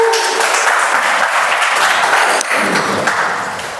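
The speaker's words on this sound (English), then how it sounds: "let's welcome with huge round of applause Toastmaster Shweta" Loud, dense applause from an audience at a Toastmasters meeting, steady throughout and starting to fade near the end.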